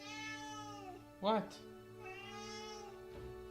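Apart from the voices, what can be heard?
cat meowing in the room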